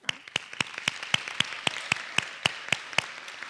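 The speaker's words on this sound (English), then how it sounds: "Please clap." Sparse, evenly spaced claps ring out at a high-school speaking competition, about a dozen sharp slaps in a slow steady rhythm, fairly close and moderately loud, with no voices over them.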